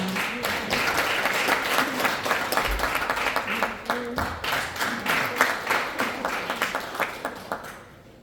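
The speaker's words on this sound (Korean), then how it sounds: "큰 박수로 맞이해 주시기 바랍니다" Applause in a small National Assembly meeting room at an anniversary ceremony greets a lawmaker rising to give a congratulatory speech. It is a sustained patter of many hands that thins into separate, distinct claps before fading out.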